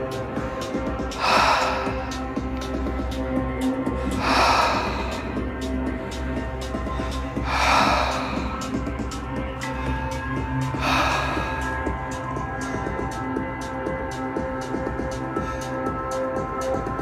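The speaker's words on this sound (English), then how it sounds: "In and out through your mouth. Inhale and exhale." Several people breathe in and out through the mouth during a guided breathing exercise at a live gong bath, four slow, audible breath swells spaced about three seconds apart over a steady sustained gong drone.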